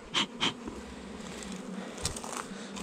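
Honey bees in a hive with the brood chamber and honey super open make a steady buzzing hum, with a few louder buzzes close to the microphone as individual bees fly past near the start and later.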